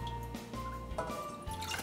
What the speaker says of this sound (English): I'm gonna go ahead and pour my pomegranate juice into the pan